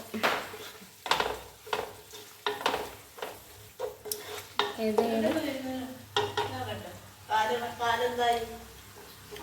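Prawns frying in a pan while being stirred, for a prawn biryani made with leftover offering rice: repeated scraping and clattering of a spoon against the pan over a soft sizzle, close by, with a voice talking over it.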